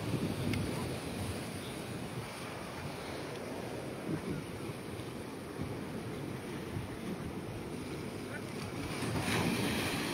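Open sea around a small boat off San Pedro beach, a steady wash of waves and water against the hull mixed with wind buffeting the microphone, continuous and moderately loud throughout.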